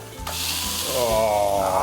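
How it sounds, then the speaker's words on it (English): Loud sizzling and crackling of pork tomahawk chops hitting a hot pan, a sudden hiss that swells and holds steady. "Get ready for the sizzle."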